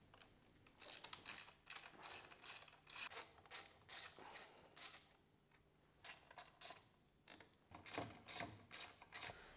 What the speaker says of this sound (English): To do is just remove the four bolts that hold the motor into the frame.